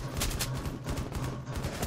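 Bursts of automatic gunfire in the Tom Clancy's Rainbow Six video game, rapid rattling volleys at low volume that run almost continuously for two seconds, with no voices.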